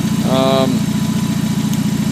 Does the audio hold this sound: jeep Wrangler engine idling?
yes